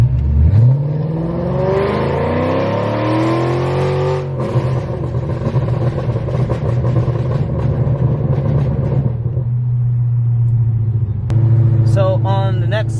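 A 350 hp Mercedes E500 4Matic wagon's engine revs and accelerates, pitch rising then holding steady as it cruises, with voices talking over the engine drone.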